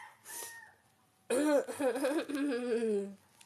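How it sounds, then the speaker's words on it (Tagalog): A short, harsh cough close to the microphone, followed by someone speaking. "Sensyahan nyo na, inuubo ako."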